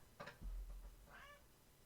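An indoor cat gives a single short, faint meow after a couple of soft knocks, quiet and close with no voices.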